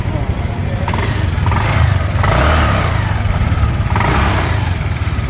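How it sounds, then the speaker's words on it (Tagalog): A motorcycle engine runs and revs nearby, rising and falling in a couple of surges, with traffic rumble behind and someone talking over it. "So okay na, umandar na yung motor ko."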